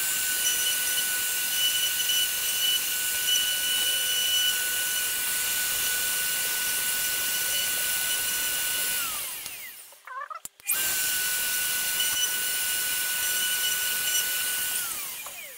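A CNC router with a 1.2 mm spiral upcut bit carves out the background of a wooden sign, giving a steady high-pitched whine that drops away briefly near the middle, then resumes at the same level.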